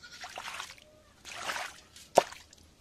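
A cow dung and water solution is poured over an ivy gourd plant in a garden, with soft splashing washes in two bursts, followed by a sharp knock.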